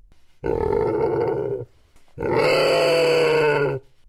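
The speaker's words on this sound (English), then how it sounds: "Pig" A pig makes two long, loud grunting squeals close by, each lasting over a second with a short gap between them.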